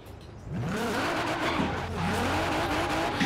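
A car drifting in the racing game Forza Horizon 4, its engine revving hard as the tires squeal in long sliding howls, loud and continuous after a brief quiet start.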